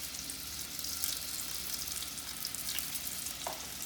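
Sweet potato fries bubble and sizzle in hot oil, a close, constant crackling hiss with a few brief sharper pops.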